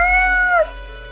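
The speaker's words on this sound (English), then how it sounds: "The cat repeats a sequence of meows." A cat gives a single long, close, loud meow that holds steady and then drops off sharply, followed by quiet room tone.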